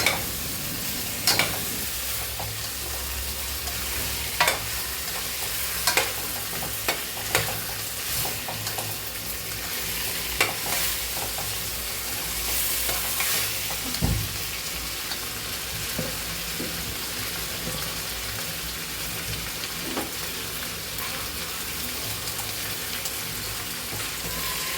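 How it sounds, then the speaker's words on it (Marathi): Chickpeas stirred into masala in a pan, giving a soft continuous sizzle with occasional spoon clinks and scrapes, fairly quiet and close, with no talk. "त्यानंतर ते चणे चांगले त्या मसाल्यामध्ये चांगले एकजीव करून घ्यायचे आहे"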